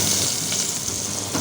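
Chopped onion sizzles in a tablespoon of oil in a saucepan, a steady close frying hiss without pause.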